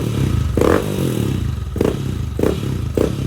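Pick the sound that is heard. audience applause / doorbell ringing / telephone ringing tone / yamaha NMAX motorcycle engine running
yamaha NMAX motorcycle engine running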